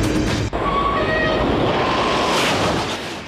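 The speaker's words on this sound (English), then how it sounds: "The world's fastest trains are designed to run on purpose-built, straight track" A high-speed train moving fast along a dedicated, purpose-built straight track. It gives a loud, sustained rushing roar with a sharp transient near the start and a faint horn-like tone.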